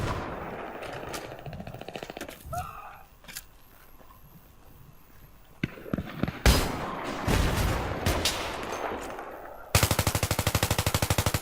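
Gunfire in Battlefield 3 multiplayer: scattered shots and bursts at first, then heavier firing, ending in a loud, sustained rapid machine-gun stream.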